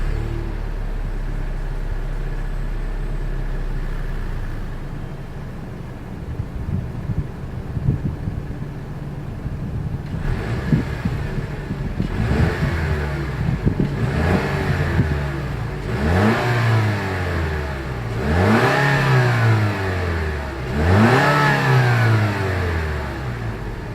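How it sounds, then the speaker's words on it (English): A Lexus NX 300 F Sport's dual exhaust idles steadily, then a series of sharp throttle blips swell into loud revs that rise and fall, growing stronger toward the end, with no one talking. "As always, here is that exhaust clip."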